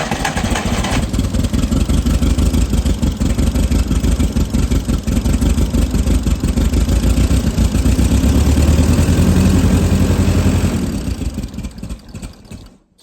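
Propane-fuelled forklift engine running on light throttle, a loud, steady mid-pitched drone with a fast pulsing rhythm that holds for about ten seconds, then fades and dies out near the end, with no talking.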